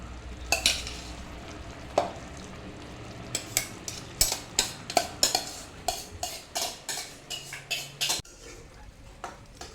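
Masala with mashed potato and peas simmers in a pan. A spoon scrapes and stirs in a run of sharp, regular clinks and taps over a soft bubbling.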